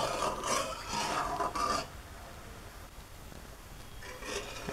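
A spoon rasps and scrapes around a pan of thickening, bubbling homemade condensed milk in quick bursts, loud at first, then a quieter bubbling simmer before the stirring picks up again.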